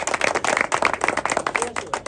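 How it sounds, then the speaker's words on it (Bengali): A crowd claps at a prize-giving ceremony for a club final, with dense, steady applause throughout and a faint murmur of voices underneath. "হাত তালি দাও সবাই।"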